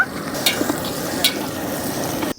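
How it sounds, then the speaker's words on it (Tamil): Onions and green chillies sautéing in oil with cinnamon and cloves, a steady loud sizzle with a couple of light stirring scrapes, ending abruptly. "வெங்காயம் நல்லா வதக்கிக்கலாம்"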